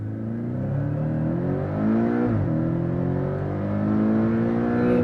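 A Porsche Cayman S launches hard from a standstill, its engine revving up in rising sweeps, dipping briefly at a gear change around mid-way, then climbing again, loud and close throughout.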